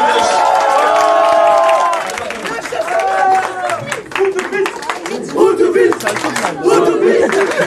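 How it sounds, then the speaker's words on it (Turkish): A crowd at a youth centre rock concert in Rize cheers and claps, loud whoops and shouting voices over scattered clapping, with people talking throughout. "Hadi daha bir alkış."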